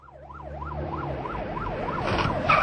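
A police car siren wails in a steady rising and falling pattern as it chases another car, growing louder as the vehicle approaches, with traffic noise building underneath and no talk.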